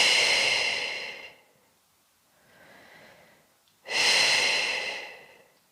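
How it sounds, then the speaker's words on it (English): Deep, long breaths taken during a stretching routine: a loud breath, a quieter one, then another loud breath, each a broad airy rush, close and alone with no talk. "Doing 3 big breaths here."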